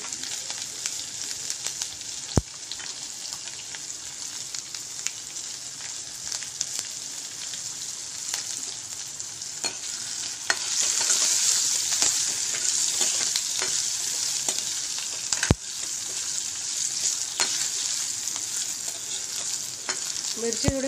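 Finely chopped green chillies frying in a pan for a raw-mango kadhi, a moderate, even sizzle with sharp ticks of spoon against metal scattered throughout, growing a little louder midway.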